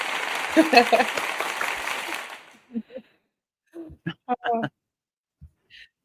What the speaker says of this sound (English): So that's my cue to find the clapping.